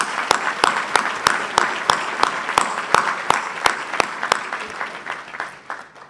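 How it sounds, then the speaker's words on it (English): An audience at the 2024 City of Suffolk State of the City address claps steadily. The claps land in a fast, even rhythm and sustain at moderate volume, then taper off at the end. "We'll get a round of applause for him."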